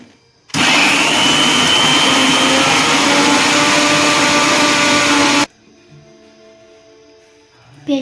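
A kitchen mixie grinds a paste with a splash of water added, running loud and steady for about five seconds before cutting off abruptly into quiet room noise with a faint clunk at the end.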